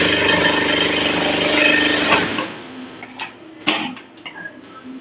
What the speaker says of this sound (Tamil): இப்போ இதுக்கு சாதாரணமாக நம்ம மீந்த பீஸை வச்சு நல்லா மறுபடியும் தைக்கிதான்றதை செக்